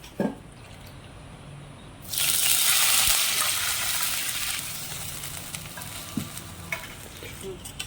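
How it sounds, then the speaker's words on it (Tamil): Two glasses of milk hit hot ghee left from roasting cashews for a halwa, and a loud sudden hissing burst rises before it slowly settles under clinking, stirring sounds. "இப்போ பால் ஊற்றிக்கிறோம் அது நெய்யிலே ரெண்டு கிளாஸ் பால்"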